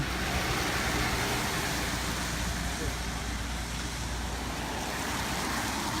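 Busy street traffic in Tzfat fills the background, a dense, even roar of many cars passing at a distance, faint and continuous, with speech over it.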